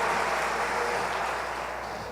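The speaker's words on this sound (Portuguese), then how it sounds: "dê uma forte salva de palmas." Steady applause from a church congregation, a wash of clapping at moderate distance that fades slightly over two seconds.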